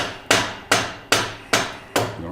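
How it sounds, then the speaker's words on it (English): Five sharp, evenly spaced knocks of a rubber mallet or dead blow hammer driving the axle through a Harley-Davidson Softail wheel, each strike loud and close with a short decaying ring, no talking. "We're gonna take a rubber mallet or a dead blow hammer."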